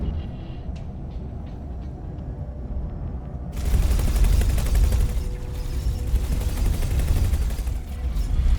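Ship weapons fire in the space game X4: Foundations, starting suddenly after a few seconds of low engine hum. A dense, continuous rattle of shots follows with a heavy low rumble underneath and runs steadily to the end.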